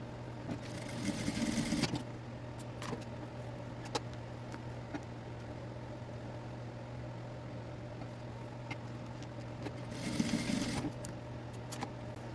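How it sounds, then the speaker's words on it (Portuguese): A sewing machine stitches along the edge of a fabric shoulder bag in two short bursts at the start and end, with a steady low motor hum and faint clicks in between. "E vamos passar uma costurinha bem na beiradinha, bem reforçadinha aqui."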